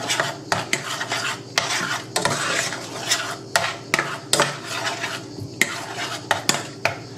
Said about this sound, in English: we're going to mix this stock cube up in here.